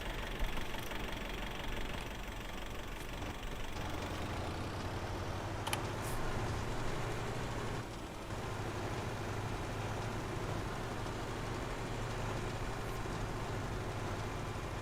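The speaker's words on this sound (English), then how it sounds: "You can hear that tractor from days away." A tractor engine in Farming Simulator 25 drones steadily throughout, a loud continuous low rumble with a knocking idle character and only slight shifts in tone, with no talking over it.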